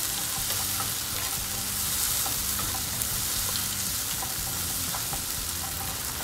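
Masala for masala macaroni sautés in a pan, a steady, close sizzle and crackle with occasional stirring scrapes running unbroken throughout.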